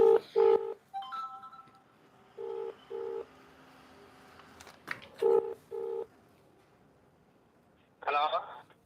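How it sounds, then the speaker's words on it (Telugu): A mobile phone dials a customer's number in a phone showroom, giving several distinct keypad tone bursts in short groups separated by quiet gaps, with a brief warbling tone near the end. "సరే కస్టమర్కి లైవ్లో కాల్ చేద్దామండి"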